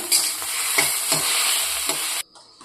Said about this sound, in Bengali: এটা একটা ভাজা ভাজা পোস্ত বানাবো।